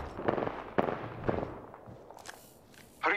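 Video game gunfire in a battle royale match: several sharp cracking shots in quick succession, then scattered fainter pops and a loud burst at the end, with no talk.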